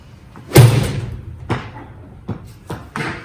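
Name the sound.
golf club hitting a ball off a board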